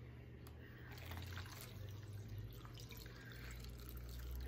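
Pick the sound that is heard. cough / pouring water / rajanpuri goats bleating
pouring water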